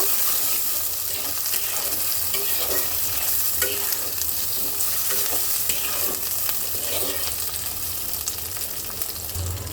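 Green chillies stirred into spices frying for a spicy pabda fish curry, a steady loud sizzle with scraping spoon strokes throughout, no talk.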